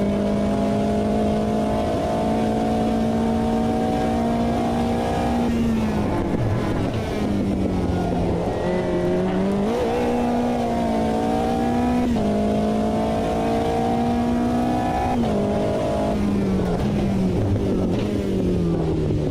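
A race car engine in the Automobilista 2 sim racing game drones loud and steady, its pitch climbing and dropping through gear changes and corners, with no talking over it.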